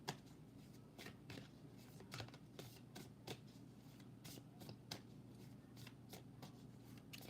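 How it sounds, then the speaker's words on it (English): Tarot-style cards are shuffled before a card pull, a quiet, close series of crisp riffling slaps and flicks in an irregular rhythm, with no voice. "I'm just gonna pull a couple cards and get some momentum going."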